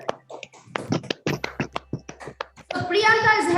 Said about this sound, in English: So round of applause to Miss Priyanka.